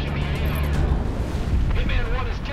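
A player's aircraft blowing up in the VR flight combat game Project Wingman, a loud rumbling burst with low booming debris noise and a voice speaking partway through.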